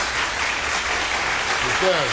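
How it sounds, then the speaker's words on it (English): An applause sound effect plays during a television simulcast broadcast, a dense wash of clapping that holds even and steady throughout, with a short spoken voice rising briefly near the end. "Here's the applause."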